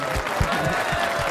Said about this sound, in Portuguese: Palmas pra ele, galera